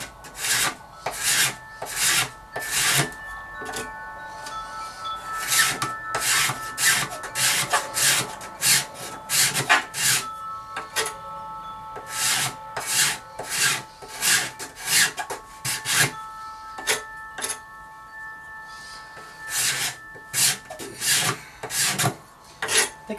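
A hand scraper is drawn over guitar binding in a long series of close, dry rasping strokes, each a short scratchy burst with brief gaps between, and no talking.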